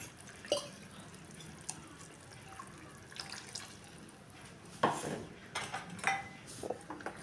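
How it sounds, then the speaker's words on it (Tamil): Water splashes and pours briefly amid light clinks of kitchenware, fairly close, with no talking. "ஜார கழுவி ஊற்றிக்கலாம்"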